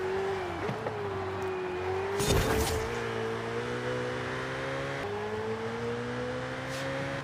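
A Ferrari F8 racing a Porsche 911 GT2 in Forza Horizon 5, with a loud, sustained engine drone rising steadily through the gears, a brief burst of tire or gravel noise midway, and a short gear-shift dip.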